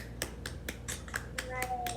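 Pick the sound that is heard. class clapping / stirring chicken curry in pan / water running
class clapping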